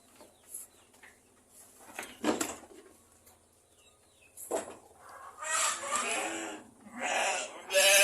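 Sheep, a Garut and Texel cross among them, bleat in a pen alongside clucking poultry, with several loud, close calls in bursts separated by quieter gaps and no talk.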